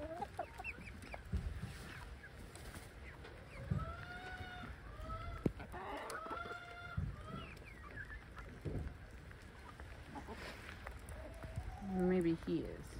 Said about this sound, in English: I want to get some more of those chickens there.